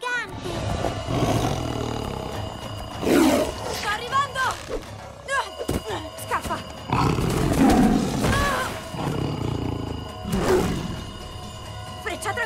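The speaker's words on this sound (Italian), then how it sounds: "Ah, un orso!" A cartoon bear roars loudly in an animated superhero show, with several long, rough growling roars rising and falling over about twelve seconds amid splashing and scene noise, while characters speak around it.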